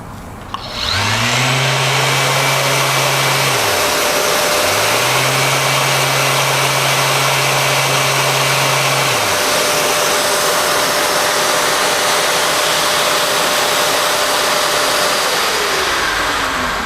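A power sander runs on cured epoxy resin at 8,000 RPM, a loud continuous whine and rush that starts abruptly, its tone dipping briefly before settling into a steady, close drone.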